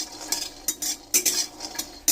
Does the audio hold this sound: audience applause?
no